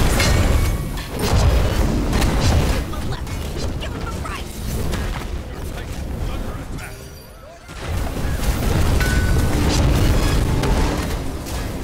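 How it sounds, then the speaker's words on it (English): The middle phoenix structure collapses in SMITE amid heavy booming blasts and crashing impacts from a chaotic team fight, loud and dense, with a brief lull before the action surges again. "Your middle phoenix has been destroyed."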